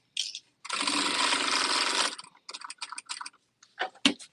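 A sewing machine stitches along a fabric edge with the presser foot guiding it: one sustained run of rapid mechanical whirring, then a series of short, choppy bursts as the stitching starts and stops.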